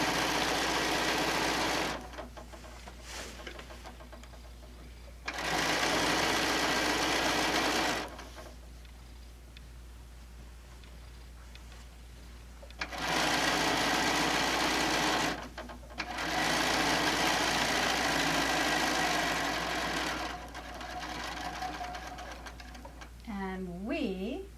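A sewing machine stitches a quilt made with the Cabin Fever pattern and a panel, running in several loud sustained bursts separated by quieter pauses where a voice talks.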